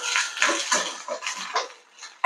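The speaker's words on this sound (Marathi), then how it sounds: "दाणे आपल्याला टाकून घ्यायचे मक्याचे." Corn kernels are tipped into a pan of lentil curry with sautéed onion, making a close, bright clatter and patter of kernels scattering over metal, with a sharp clink at the end.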